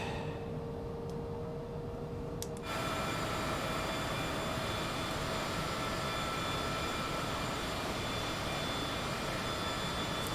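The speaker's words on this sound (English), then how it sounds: "We have to taxi to runway 32 because runway 1 is closed at Republic." A Citation CJ4 business jet taxiing at Republic airport in Microsoft Flight Simulator 2020 gives a steady, loud jet engine whine and roar. It swells abruptly after a quieter start and then holds evenly, with no talking.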